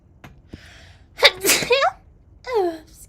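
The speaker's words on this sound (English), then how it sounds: "If anyone's confused, that was a sneeze." A single sudden human sneeze, sharp and close, preceded by a few short intakes of breath and followed by a trailing vocal sound.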